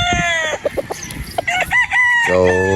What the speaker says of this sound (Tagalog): Magandang manok.